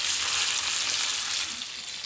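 Pomfret fish for a masala fish fry sizzles in a pan over low gas, a steady, dense crackling hiss that runs unbroken for about two seconds with no voices.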